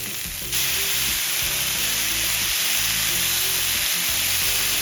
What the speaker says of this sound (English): Now we'll add washed and chopped fenugreek.